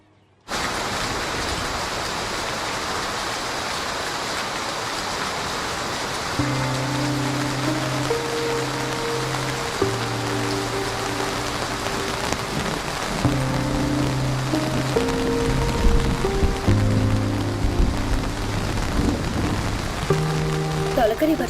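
First rain of the season pours down in a steady, dense hiss of drops that fills the whole stretch, with soft sustained musical tones joining partway through.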